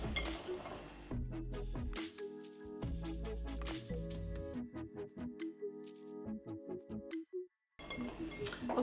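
Flour, icing sugar and a pinch of salt mixed in a bowl for pancake batter: steady scraping and clinking of a utensil against the bowl, close and continuous with brief pauses.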